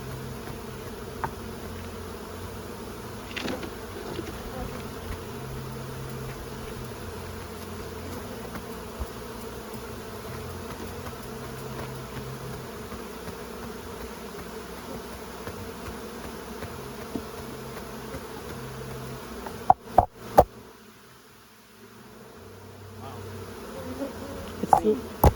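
Honey bees in an Ontario beekeeper's hive hum with a steady, dense drone through the whole stretch. A few sharp knocks and a brief dip in the sound come near the end.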